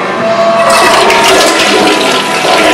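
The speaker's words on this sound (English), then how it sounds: "I'm going to go and do the full flush" A dual flush toilet's full, larger-button flush rushes loudly and steadily, swelling into a strong continuous gush of water close by with no voices.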